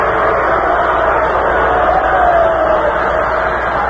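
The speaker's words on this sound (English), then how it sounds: "This crowd really enjoying itself today" Baseball stadium crowd in a Red Sox at White Sox game, heard through a vintage radio broadcast as a steady, dense roar of murmuring and cheering with no break.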